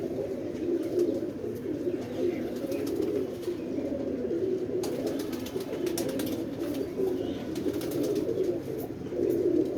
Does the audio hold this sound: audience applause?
no